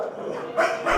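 A pit bull with a tick-infested ear, rescued from an abuse case, gives a couple of short, close barks over a steady background hiss.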